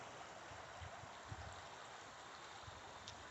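A fast-running creek flows steadily over its bed outdoors in early March, a continuous close rushing wash with faint gurgles and no voices.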